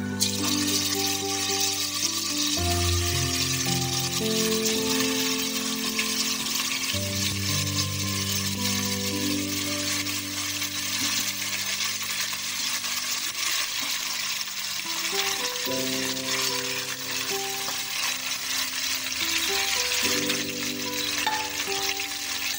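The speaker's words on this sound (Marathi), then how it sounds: "मंद गॅस करून त्याच्यावर वांगी सोडून घ्यायची आहे आपल्याला।" Stuffed brinjals fry gently in oil on a low flame, a steady broadband sizzle running throughout, overlaid by strong tonal background music.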